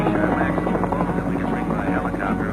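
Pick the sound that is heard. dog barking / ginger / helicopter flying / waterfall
helicopter flying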